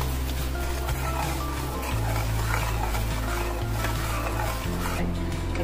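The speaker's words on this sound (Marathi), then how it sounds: "आता हा मसाला आपण तेलात चांगला भाजून घेऊयात।" Ground Khandesh masala paste roasting in two spoons of oil over low heat for shev bhaji, a soft continuous sizzle under a steady low hum, with faint stirring and no talking.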